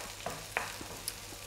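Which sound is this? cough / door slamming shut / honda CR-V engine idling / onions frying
onions frying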